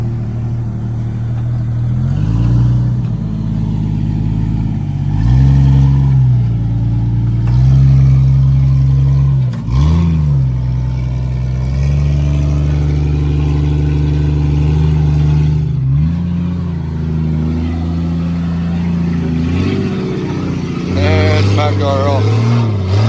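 An off-road rig's engine at an off-road park drones and revs repeatedly as it crawls along, with loud low rumbling rising and falling over about twenty seconds and occasional sharper surges near the end.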